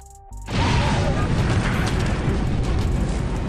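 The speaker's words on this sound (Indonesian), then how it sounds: "tetapi tiba-tiba ada ledakan" A sudden loud blast erupts in a film scene after a brief quiet moment, then a dense, rumbling roar of debris and noise continues without letting up.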